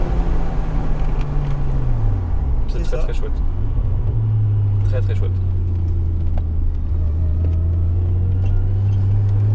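A Nissan Skyline R34 engine drones steadily while driving, its low tone dipping and then climbing in pitch as it pulls, with people chatting in French over it throughout.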